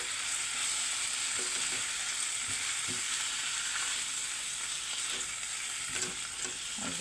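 Chicken liver and gizzard fry in a pan with a steady, close sizzle, broken now and then by soft scrapes and clinks of stirring.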